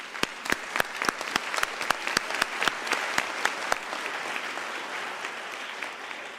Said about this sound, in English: let us give Professor Kenham a thunderous round of applause